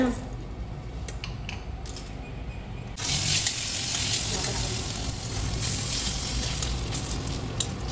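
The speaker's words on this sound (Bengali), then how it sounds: "তারপরে এই ফোড়ন দেওয়া হবে।" Whole spices hit hot oil for tempering chana dal with fried coconut, bursting into a loud, steady sizzle and crackle after a few seconds of quieter kitchen clatter.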